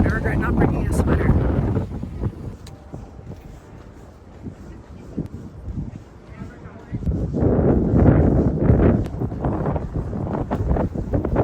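Gusty, cold wind rumbles against the microphone at a farm, easing for a moment and then surging louder again, with muffled voices underneath at times.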